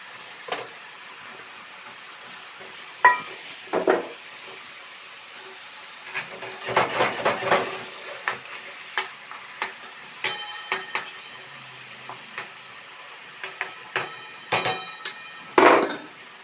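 Mutton and halved tomatoes frying in a karahi for Shinwari karahi, giving a steady hiss of sizzling broken by sharp metallic clatters and knocks from a spoon against the pan, with no talking.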